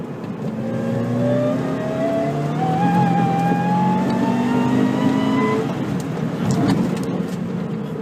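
A supercharged Subaru BRZ with bolt-on parts accelerates hard on a cold, sandy road, its engine note climbing steadily through the revs with a whining supercharger, then easing off near the end, loud and close from inside.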